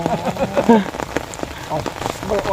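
Rain falls at an outdoor fishing spot, a steady patter on surfaces. Voice-like tonal sounds and other noises blend in over the top.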